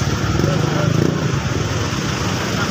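A Kawasaki Dominar 400 motorcycle engine idles close by with a loud, throbbing low rumble, pulsing rhythmically for a few seconds without talk.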